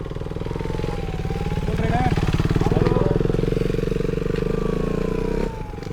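A Royal Enfield Continental GT 650 BS6 motorcycle engine runs close by with a steady, throbbing pulse and a slight swell in revs midway, while people talk faintly in the background.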